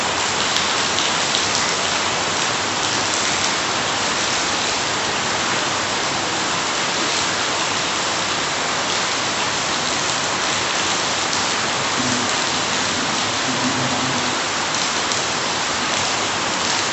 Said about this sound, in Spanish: Al día siguiente amaneció lloviendo